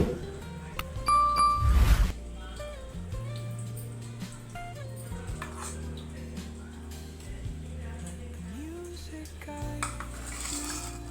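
Tamarind fish curry is stirred in a metal pot, with a burst of clanking and scraping near the start followed by quieter intermittent pot contact and a steady background hum.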